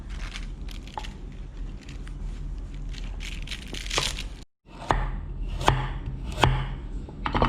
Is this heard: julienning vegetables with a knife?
yes